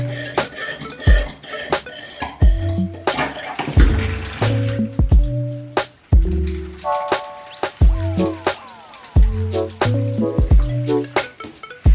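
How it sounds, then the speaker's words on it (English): Water is siphoned out of a turtle tank, with close gurgles, splashes and drips arriving in irregular bursts and short pauses. "I will also siphon out a little bit of water out of this tank"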